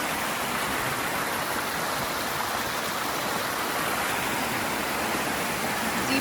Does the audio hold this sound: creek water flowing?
yes